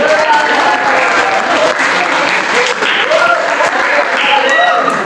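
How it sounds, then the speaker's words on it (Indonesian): A classroom of students applauds a classmate, loud and sustained clapping filling the room, with voices faintly audible underneath. "tepuk tangan dulu untuk Zara Rizky"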